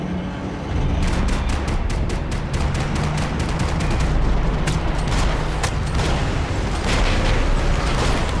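Rapid gunfire bursts from a chaotic shootout, sharp repeated shots cracking over a loud, dense rumble that keeps going for the whole stretch, with no talking.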